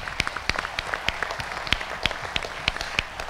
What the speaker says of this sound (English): Let's give a round of applause for Jerry Benjamin.